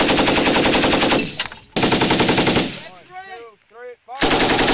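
US military machine guns blast out loud rapid bursts during a live-fire exercise with mortars, their rattling fire broken by a short echoing gap before another burst starts.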